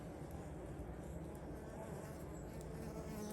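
A dense, steady drone of many honeybees buzzing close by at backyard hives, continuous and low-pitched without pause.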